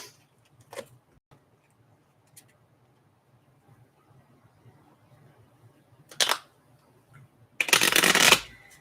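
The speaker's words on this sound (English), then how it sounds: "We'll give these a quick shuffle." Playing cards being shuffled at a game table, with a faint short riffle early on, another around six seconds, and a loud close riffle near the end, separated by quiet pauses.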